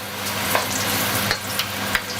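Sambal goreng kentang, a spiced potato dish, sizzles steadily in a pan over moderate heat while a utensil stirs it, leaving a few distinct scrapes and knocks against the pan.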